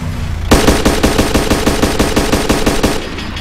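Rapid automatic gunfire from a firefight in the video game Arma 2 Wasteland, a fast, steady stream of loud, close shots lasting about two and a half seconds before cutting off.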